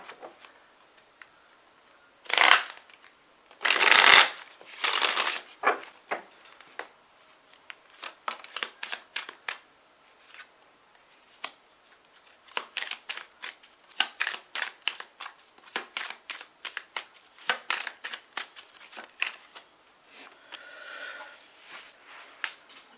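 Tarot cards are shuffled and drawn by hand, bursts of riffling followed by a long run of quick, close, crisp card flicks and slaps, with a soft rustle near the end.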